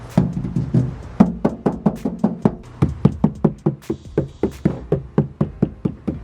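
Knuckles rap repeatedly on a Toyota Tacoma door panel fitted with sound-deadening material, producing a steady run of dull, solid knocks, close and loud, with no talking.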